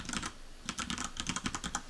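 Rapid keystrokes on a computer keyboard, a steady run of close, crisp clicks in short bursts with brief pauses, no voices.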